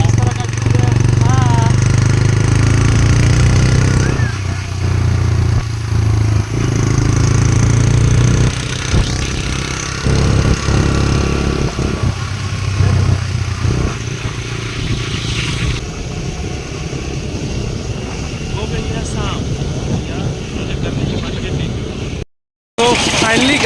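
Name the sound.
riding a motorbike through a market road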